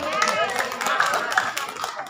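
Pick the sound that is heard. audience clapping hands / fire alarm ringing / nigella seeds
audience clapping hands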